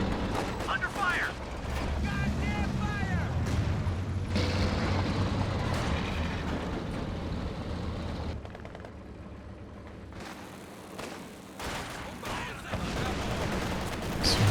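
Company of Heroes 2 battle noise on the Lienne Forest map, with scattered gunfire, mechanical clatter and distant artillery booms rolling under steady voice commentary.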